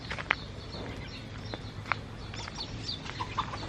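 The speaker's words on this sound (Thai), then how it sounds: "ไก่มันเข้ามาในสวนลุง" Chickens that have wandered into an uncle's garden give a few short, scattered clucks and calls at moderate distance over steady outdoor background noise, with no talk.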